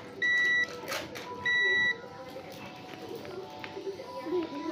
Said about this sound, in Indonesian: Nah terus bisa dicek lagi dengan buzzer.